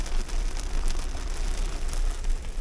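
Steady rain falls during a road trip through China, a dense, even hiss of drops close by with no pauses and no voices.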